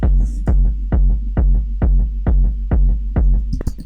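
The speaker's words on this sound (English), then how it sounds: "And then I have kick number 2, which sounds like this." Second kick drum layer in a techno track pounds eight times at an even pace, each hit a loud, deep, booming thud with a short punchy tail, alone, ending in a brief clatter.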